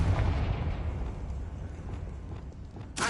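A Confringo fire spell explodes in Hogwarts Legacy, a loud, dense blast rumbling steadily for about three seconds and ending in a sharp crackling burst.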